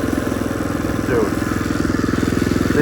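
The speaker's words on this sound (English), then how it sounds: "The exhaust heat shield is rattling, but that's okay." A loose exhaust heat shield on a cheap motorcycle bought broken from Tractor Supply rattles in a fast, steady rhythm over the running engine while the bike rides along a ditch, with a voice briefly audible.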